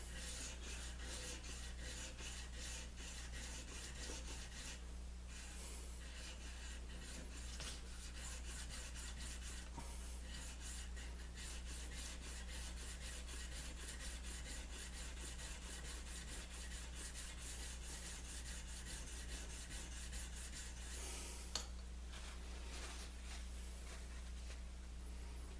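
Spokeshave working a wooden edge, a continuous soft scraping and rubbing in repeated strokes, faint and close over a steady low hum.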